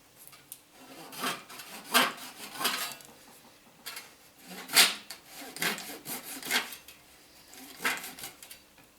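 A handsaw cuts small wooden nibs off a puzzle piece clamped in a vise, giving a series of short, scratchy rasping strokes in uneven bursts, close and moderately loud.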